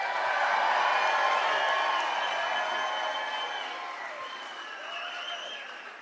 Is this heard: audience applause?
yes